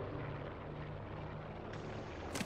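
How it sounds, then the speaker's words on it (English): Plane passing overhead in Call of Duty Black Ops 4 Blackout mode: a steady, rumbling engine drone that holds at an even loudness throughout, with a brief brighter swell near the end. "It's the plane, Mike."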